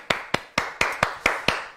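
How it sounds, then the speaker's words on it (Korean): A few people clap in a studio, producing seven distinct, evenly spaced claps at close range. The claps are sharp and isolated, with no crowd or talk behind them. "우리 박수 한번 보내주시죠"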